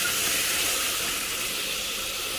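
Meat sautéing with garam masala, Kashmiri chilli and salt gives a steady, moderate hissing sizzle from the pan, unbroken and without talk.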